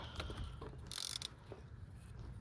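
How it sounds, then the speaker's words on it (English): A torque wrench ratchets on a thermostat bolt on a Nissan Xterra, giving a close, fast burst of clicking pawl teeth among softer metallic handling noises, with no speech. "But I'm gonna try to torque it with the wrench."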